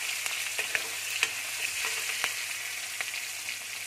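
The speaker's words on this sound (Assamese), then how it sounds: "আৰু তেল গৰম আছে। এতিয়া মই ইয়াত অলপ পিঁয়াজ দি দিম।" Onions fry in hot oil with a steady, bright sizzle, broken by occasional soft stirring knocks and pops at close range, with no talking.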